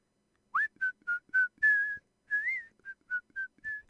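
A clear, close human whistle, a series of short tonal notes with a rising swoop at the start, alone without talk.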